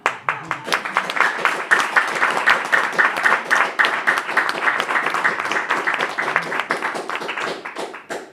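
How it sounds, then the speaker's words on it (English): An audience at an ISKCON gathering claps together in a dense, steady patter of many hands that fades out at the end, with a brief voice near the start. "Your clapping is not very loud."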